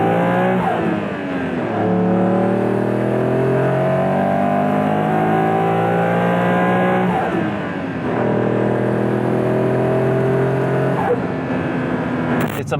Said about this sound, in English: It just kind of has this mechanical sound. You can't really hear the turbos. You just hear a lot of rushing air when you floor it.